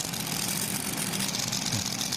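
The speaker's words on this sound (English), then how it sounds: "supercharged Hemi, being able to get it back into reverse. It's idling a little bit too fast." A supercharged Hemi engine idles a little too fast at a county fair truck pull, a loud, steady rumble with no breaks.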